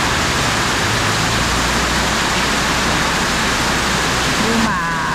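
Heavy rain pours down steadily during a thunderstorm in Vietnam, a dense, loud and constant roar of water like a downpour flooding faster than it can drain, with no letup across the whole stretch.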